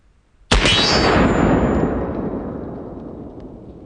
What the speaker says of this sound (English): We'll go ahead and shoot the steel first just to see how it feels.